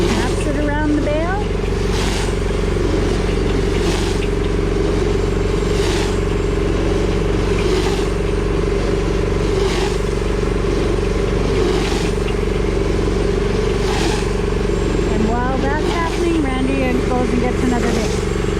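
Bale wrapper machine wrapping a bale on a farm: a steady, loud mechanical drone with rhythmic clunks recurring every couple of seconds as the wrap turns, and a voice faintly present at times.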